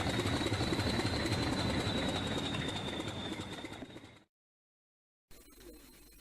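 Toy tank engines roll away along a wooden railway with a steady whirring rumble and a thin whine on top. The sound cuts to silence for about a second, then resumes more faintly.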